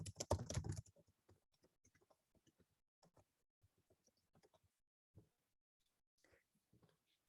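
Message typed on a computer keyboard in an office, sparse quiet key clicks in short irregular bursts after a brief louder noise at the start.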